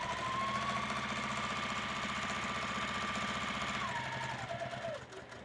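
Sewing machine running a continuous stitch through fabric for a 9x13 glass pan cover, a loud, steady rapid mechanical chatter and motor whine close by that slows and winds down near the end.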